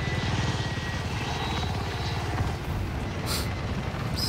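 Military helicopter in the video game Call of Duty Modern Warfare, its rotor thumping steadily and loudly through the whole stretch amid battle noise, close and continuous.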